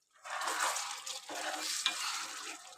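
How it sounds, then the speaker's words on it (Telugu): Chicken curry, with fenugreek leaves and coriander just added, being stirred in a pan, a scraping stir over a steady sizzle that starts abruptly and continues for about three seconds, close and moderately loud, no speech. "ఒకసారి అంతా కలుపుకుందాము."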